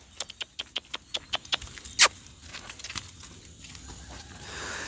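A tattooed mare with likely race training walks on a hard surface, her hooves clip-clopping in a steady, evenly spaced rhythm close by, followed by a sharp knock and quieter shuffling steps.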